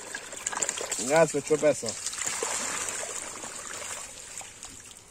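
Dirty water gushes steadily out of a swimming-pool sand filter during a backwash, a continuous broadband rush that runs under someone speaking German.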